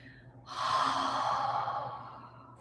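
Audible yoga exhale, a single long breathy rush that swells quickly and fades over about two seconds, close and fairly loud with no talk.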